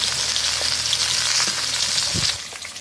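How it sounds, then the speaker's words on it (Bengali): Fish sizzling steadily as it fries in hot mustard oil, a close, continuous crackling hiss with occasional louder spits, no voices. "লাল লাল করে ভাজা হচ্ছে।"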